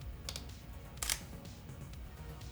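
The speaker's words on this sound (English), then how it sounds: "so I'm shooting handheld and I'll take a photo" A Sony a7iii camera fires its shutter for a handheld photo: a faint click followed a moment later by a sharper, louder shutter snap close to the microphone, against quiet room hiss.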